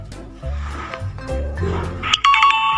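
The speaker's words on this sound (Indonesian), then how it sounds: "jika betul akan berbunyi seperti ini" A learning app plays a short bright electronic chime for a correct answer. The chime rings near the end after a brief stretch of indistinct noise and voice-like sound.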